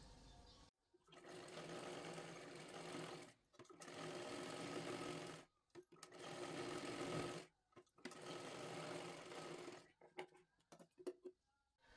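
A sewing machine stitches a seam on a three-piece princess blouse in four long bursts separated by short pauses, close and steady, with no one talking.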